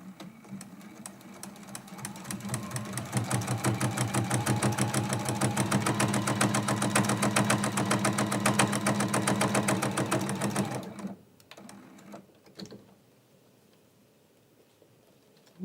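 A sewing machine runs steadily for about ten seconds, stitching lines across the back of a quilt-as-you-go block along the sashing. It sounds as a fast, even mechanical patter that then stops, leaving a few faint handling sounds.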